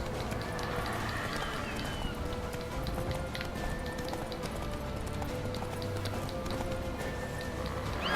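Horse hooves galloping in The Witcher 3 video game, a steady clip-clop run under a constant loud game soundscape with faint tonal effects, no talk over it.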